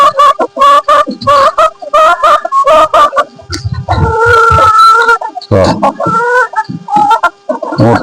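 Hens cluck loudly and close by in a continuous, busy chorus of overlapping calls, some rising into squawks, on a flock that is back to laying eggs.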